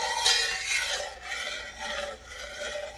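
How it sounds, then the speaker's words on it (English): A spoon scrapes around a pot of Jamaican salt fish rundown in slow, rhythmic rasping strokes, close and moderately loud, with no talking. "So what I'm doing now is just stirring it."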